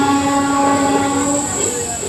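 Passenger train running on tracks near Vijayawada, a loud, steady rumble with sustained tonal ringing and a constant roar from close by.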